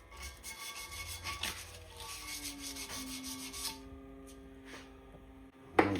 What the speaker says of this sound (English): Just sanding the silver off of it so it's easier to buff.